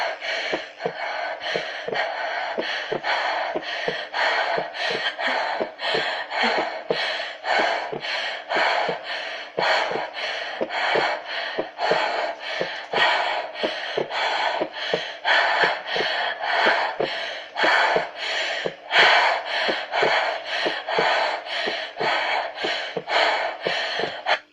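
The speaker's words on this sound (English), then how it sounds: "You are breathing too fast right now." Someone breathes fast and anxiously for a long stretch, each quick, audible, gasping breath coming in a steady rapid rhythm, close and loud, with no talking.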